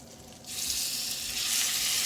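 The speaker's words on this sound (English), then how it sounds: "making sure I heard that sizzle before I dropped it down up in there" Loud, steady sizzling of steak swells up after a short pause and keeps crackling in a hot pan, close and continuous with no talking.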